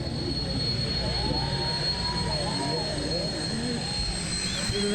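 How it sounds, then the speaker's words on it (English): Jet engines of the White Knight carrier aircraft, a steady loud roar with high whining tones, continuous throughout as the plane passes at close range, with no talk over it. "Isn't that a beautiful airplane?"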